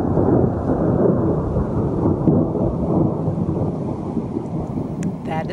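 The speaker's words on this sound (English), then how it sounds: "That is the sound of thunder snow in Connecticut." Thunder snow rumbling during a Connecticut snowstorm, a deep, continuous rolling roar filling the whole stretch with wind noise on the microphone.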